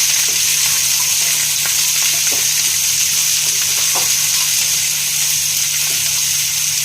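Washed snake melon fries in a pan, giving a loud, even, continuous hiss of sizzling with a few faint scrapes and clinks, close and unbroken, no talking.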